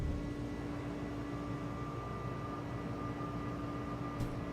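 Airbus A300 climbing out after takeoff in a flight simulator, a steady loud roar of jet engines with a constant whine, continuous and unbroken throughout.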